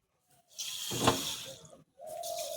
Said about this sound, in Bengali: এর মধ্যে আমি কিছুটা জল দিয়ে শিরাটা তৈরি করে নেব